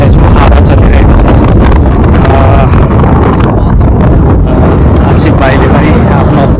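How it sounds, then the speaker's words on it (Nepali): Strong wind buffeting the microphone in a hilly desert area near the Shuaib caves at Al-Bada'a, Saudi Arabia, a loud continuous roar with gusty rumble throughout. "हावा चलिरहेको छ"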